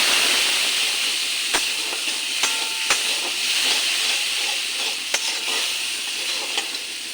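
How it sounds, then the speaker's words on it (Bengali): Spice paste with turmeric and salt sautéing in a pan for a raw banana and potato dish, a loud continuous sizzle and hiss with scattered sharp scraping ticks from stirring. "একটু হলুদ দেব পরিমাণ মতো নুন দেব মশলাটা ভালো করে কষে নিই"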